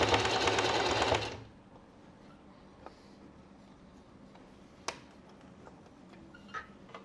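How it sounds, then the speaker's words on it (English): A sewing machine runs briefly along the hem of a babydoll dress in one short close whir, then stops, leaving a quiet room with a few faint clicks and taps. "we're going to sew all the way down around the bottom."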